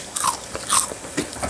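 Fried blooming cassava (singkong mekar) is bitten into with several crisp crunches, close and distinct, spread across a short moment with no talking.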